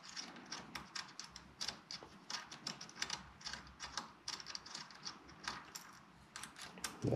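Small screws on an FX Panthera air rifle being loosened with a 3mm Allen key during a left-handed conversion, a run of close, light metallic clicks and ratcheting ticks with no talking.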